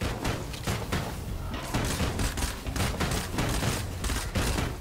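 Rapid bursts of gunfire in State of Decay 2 fighting a blood plague and zombies, loud and dense with repeated sharp cracks and thuds filling the whole stretch.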